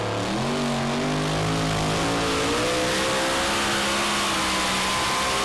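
A drag racing car launches hard down the strip at the NHRDA World Finals in Ennis, Texas, its engine roaring loud and close with a rising pitch as it accelerates through the gears.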